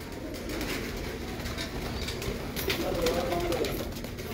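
Pigeons coo softly in a few short low calls over a background hum of outdoor noise.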